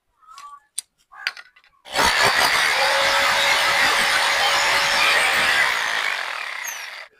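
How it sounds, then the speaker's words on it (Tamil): A few brief knocks and handling sounds, then a power drill whirs loudly and continuously as it bores through material for several seconds before winding down. "இப்போ நம்ம ட்ரில்லிங் மிஷின் நல்லா ட்ரில்லிங் போட போகிறோம்."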